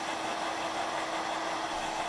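A hair blow dryer runs steadily during a volume blowdry, a constant close whooshing hum with no breaks or speech.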